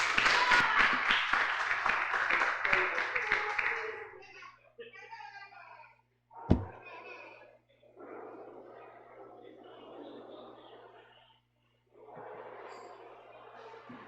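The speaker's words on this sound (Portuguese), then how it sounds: "palmas para o Senhor" Church congregation applauding during a Sunday service, a dense burst of clapping at first that breaks off and gives way to quieter, scattered room sound and murmuring.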